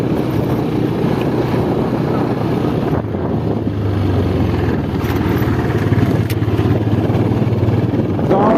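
A motorcycle being ridden, its engine a continuous low drone buried under heavy wind buffeting on the microphone, with no break throughout.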